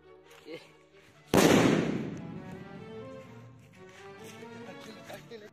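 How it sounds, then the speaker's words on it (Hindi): A size-one Top Tiger firecracker bomb bursts in a single loud, sharp blast during Diwali testing, its crack ringing out and decaying over a few seconds, with faint voices and background noise before the blast. "तो गाइस अब टेस्टिंग करते हैं हमारे सबसे फेवरेट बम टॉप टाइगर बम, और यह एक नंबर साइज"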